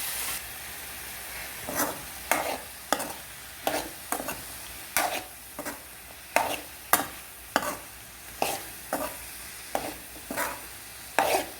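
Roasted gram and peanuts are stirred with onion, chilli and garlic in a pan for a tomato curry, with a utensil scraping in steady repeated strokes over a faint sizzle, close and clear, with no talking.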